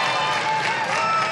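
A studio audience at the Classic Concentration game show applauds in a continuous, dense wash of clapping that stays loud and even from start to finish.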